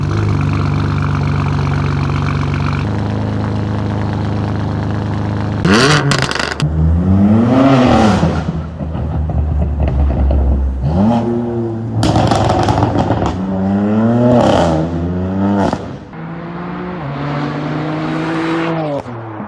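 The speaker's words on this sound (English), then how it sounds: "It is an AWE track exhaust, cat back, full straight pipe system, and it really turns this car into an aggressive monster." A BMW M4 F82 with an AWE track cat-back straight-pipe exhaust idles with a deep burble, then barks through a series of loud, sharp revs that climb and drop, close up and alone.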